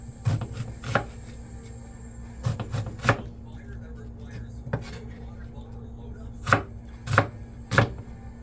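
Onions and tomatoes chopped on a cutting board, sharp knife thuds coming in quick clusters of two or three with pauses between, close and clear over a low kitchen hum.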